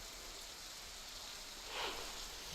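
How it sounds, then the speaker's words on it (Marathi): Heavy monsoon rain falls in Vasai-Virar as a faint, steady wash of noise with a brief louder swell of splashing midway, heard from a distance without speech. "बुधवारपासून वसई विरार मध्ये पावसाने जोरदार हजेरी लावलेली आहे।"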